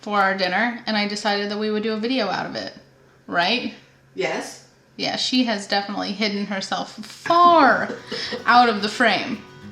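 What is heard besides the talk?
No everyday noises stand out.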